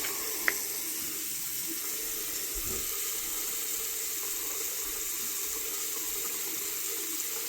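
Hot water running from a household tap: a faint, steady hiss of flow that continues evenly throughout, with one small click near the start.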